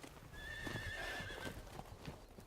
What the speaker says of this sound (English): Her mother bravely defends the foal from being trampled by the milling adult horses.